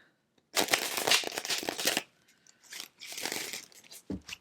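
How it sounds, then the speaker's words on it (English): Tarot cards shuffled by hand in two bursts of brisk riffling and flapping, close and crisp, separated by a short pause with a soft tap at the end. "I'm being guided to do 1 more shuffle"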